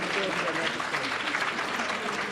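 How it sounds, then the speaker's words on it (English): An audience at a leadership luncheon applauds for Miss Baker, with dense, steady clapping from a room full of people that holds at an even level for the whole moment. "would we please give Miss Baker a round of applause?"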